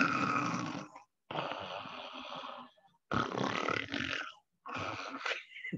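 A person imitates loud snoring with the voice, in four rasping, grunting bursts of about a second each, separated by short silences.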